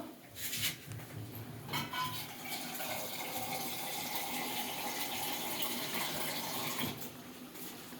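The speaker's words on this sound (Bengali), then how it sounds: "একটু জল দিয়ে দিলাম" Water is poured into a pot holding a fish head in a home kitchen, a steady close splashing stream running for several seconds with a faint metallic clink near the start.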